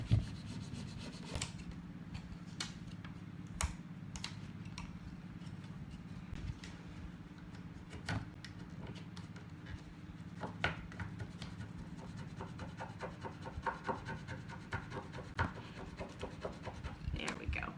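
Hand rubbing on a transfer for a DIY American flag craft, a steady soft scraping rasp with a low hum beneath and scattered clicks and taps, continuous and close for the whole stretch.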